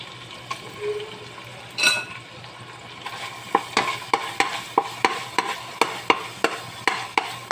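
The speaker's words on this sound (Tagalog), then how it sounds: "Kaya igisa na natin yung bawang." Garlic sautéed in a pan for chicken liver adobo, with a soft background sizzle and a steady run of sharp, regular spatula scrapes and taps against the pan.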